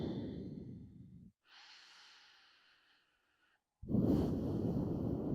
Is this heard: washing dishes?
no